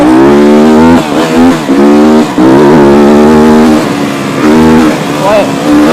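An SWM RS 300R motorcycle from 2016 accelerates on fast dirt trails, its engine loud and close, climbing through several rising revs with brief dips between gear changes.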